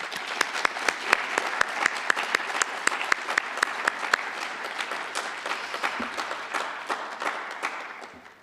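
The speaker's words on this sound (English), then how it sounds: "So please join me in applauding them." An audience at a Pan African Mathematics Olympiad ceremony claps in steady, sustained applause with distinct sharp claps standing out, fading slightly toward the end.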